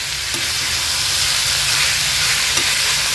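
Carrots and green peas sautéing in a pan over high flame for a tava bhaji, giving a loud continuous hiss and sizzle with a couple of faint stirring knocks and no voices.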